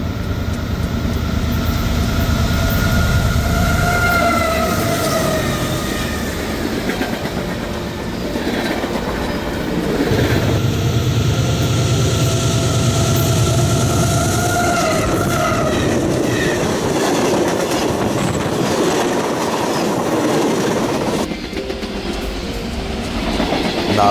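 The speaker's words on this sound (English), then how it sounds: "The first train I would see is a CSX intermodal being led by an increasingly rare CSX AC44 in YN2 paint scheme." A CSX intermodal freight train hauled by a CSX AC44 diesel locomotive in YN2 paint rolls steadily past at close range, with a continuous loud rumble, rhythmic clickety-clack of wheels over rail joints and brief metallic squeals, no talking.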